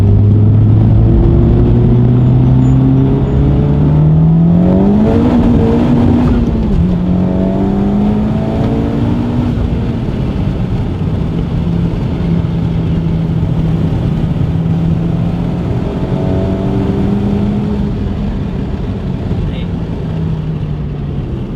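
A powerful Honda Civic Type R, tuned to about 500 wheel horsepower, pulls hard in fourth gear with a loud, sustained engine note that climbs steadily in pitch, continuous and close throughout.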